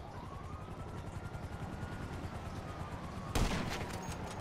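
Rapid bursts of gunfire during a GTA 5 shootout, rattling steadily under a helicopter's thrum, then a sharp louder blast near the end.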